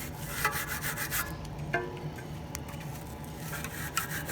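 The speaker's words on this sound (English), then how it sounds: "You can use a soft bristle and just clean them." A soft-bristle brush scrubs the hubs of a mountain bike during a wash, making faint, repeated rubbing and scraping strokes with a few sharper taps, fairly quiet and with no talking.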